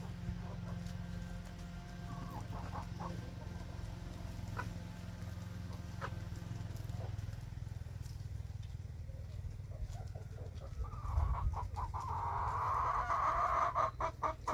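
Hens cluck in a backyard chicken coop, with scattered calls over a low steady hum that grow livelier and louder toward the end.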